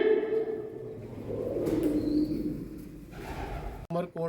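Soft, low cooing of pigeons under netting at a shrine in Umerkot, Sindh, Pakistan, murmurs continuously at moderate distance, with a voice starting to speak at the very end.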